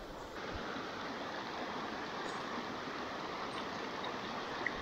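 A river flows past a small beach in a rain-soaked forest, a steady broadband rush of water that stays even and unbroken from start to finish.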